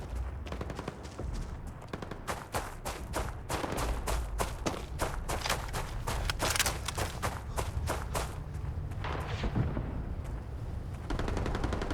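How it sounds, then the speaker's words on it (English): Steady stream of gunshots in Starfield at a scrapyard, fired repeatedly at a target from long range, each crack sharp and evenly spaced in a long rhythmic volley with faint background ambience. "I'm killing this from this distance. I can hear the shots."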